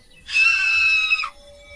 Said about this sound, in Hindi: खुद को शीशे में देखकर उसकी जोर से चीख निकल जाती है